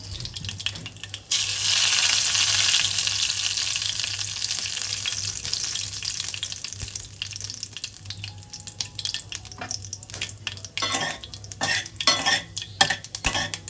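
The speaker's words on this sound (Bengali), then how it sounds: "দুটো শুকনো লঙ্কা দিয়ে দিলাম আর সর্ষে ফোড়ন দিয়ে দিচ্ছি।" Dried red chillies and mustard seeds sizzle in hot oil, a loud bright crackle that bursts in early and settles into steady frying with scattered pops and spoon clinks, no voices.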